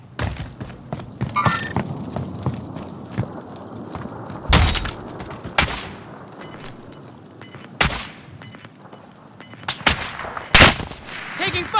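Bursts of video game gunfire crack out loud and sharp in uneven volleys, with heavy thumps and rapid automatic fire scattered across the stretch.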